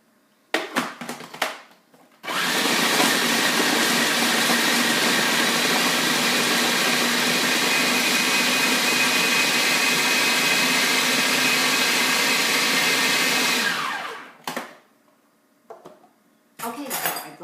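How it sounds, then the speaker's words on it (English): A kitchen blender grinds dry nuts and dates for a chocolate cake, a loud, steady close roar lasting about twelve seconds, with brief clatter before and after. "so I blended it for a little bit"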